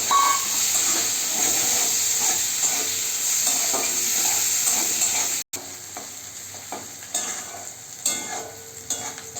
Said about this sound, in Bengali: আমার পেঁয়াজটা বেরেস্তা মতন করে ভেজে নিয়েছি